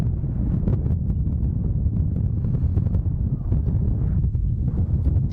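Strong wind blows across an outdoor soccer field during a boys' under-14 Dallas Cup match, roaring steadily and loudly into the microphone as a dense, continuous low rumble with no pauses.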